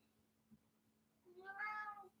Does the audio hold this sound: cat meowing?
yes